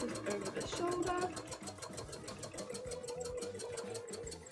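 A sewing machine stitches free-motion embroidery on cosplay fabric, a fast, steady mechanical chatter with regular needle pulses running throughout at moderate volume.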